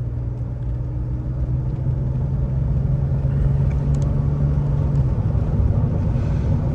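A 1986 BMW 635 CSi E24 with automatic gearbox driving along, its engine giving a steady low rumble from inside the car that rises slightly as it shifts gear.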